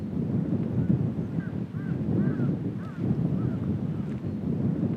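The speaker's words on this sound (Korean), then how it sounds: "이곳 철원의 비무장지대에는 오늘도 새소리만 쓸쓸히 울려 퍼집니다" Birds call in the Cheorwon demilitarized zone, with scattered honking, crow-like caws over a steady wind-buffeted outdoor rumble, the cries spread through the clip at moderate distance.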